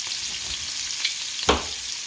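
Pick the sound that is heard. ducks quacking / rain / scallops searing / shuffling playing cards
scallops searing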